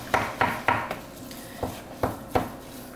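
Food for a mash is mixed in a bowl while cooking, with a utensil knocking and scraping against the bowl in about seven sharp, irregularly spaced clinks, close and moderately loud, with no talking.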